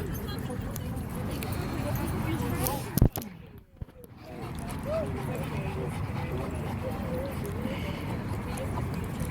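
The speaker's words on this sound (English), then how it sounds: "That's a bad dog, Midnight." At a dog park, a dog barks, yips and whimpers near the mic amid scuffling, with people talking over it and a brief quieter gap midway.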